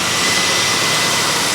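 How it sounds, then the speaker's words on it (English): A car engine revs hard during a DIY air-conditioner recharge, a loud, steady roar held close without letup and no voices over it. "So Dad's revving the engine."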